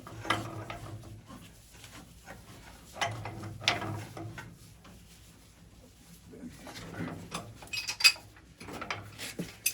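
A wrench tightens a gas valve fitting on a Burnham Independence gas steam boiler during an oil-to-gas conversion, giving intermittent metallic clicks and scraping knocks in bursts while people talk nearby.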